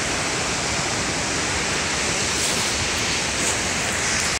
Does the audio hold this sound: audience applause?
no